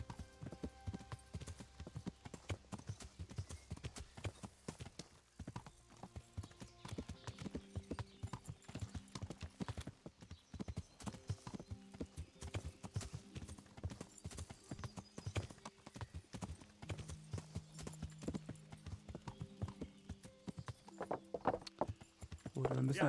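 Horse hooves clip-clop steadily in the medieval role-playing game Kingdom Come on Xbox, a continuous rhythmic trot running under background music and people talking throughout.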